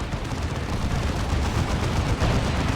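Cannon fire in Warhammer 40,000: Dawn of War 2, dense rapid bursts of gunfire and explosions merging into a continuous loud battle din.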